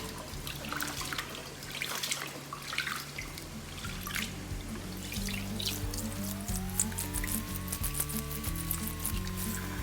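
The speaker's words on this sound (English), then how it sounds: "right now I'm gonna go ahead and start washing my rice" Rice being washed in water at a kitchen sink, with running tap water, sloshing and dripping throughout, plus a rising whine partway through.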